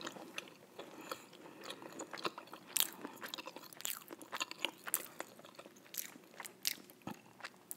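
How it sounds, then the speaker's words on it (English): Close, crisp crunching and crackling bites of an oven-toasted jelly donut, irregular bursts of chewing on something crusty, with no talking. "my donut done got crunchy."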